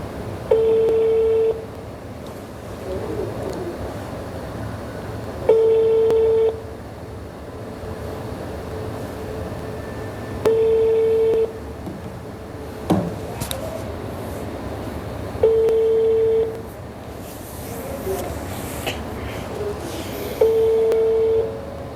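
A telephone call rings out unanswered, with the ringback tone sounding in regular paired bursts about every five seconds, loud and clear over a steady background hiss.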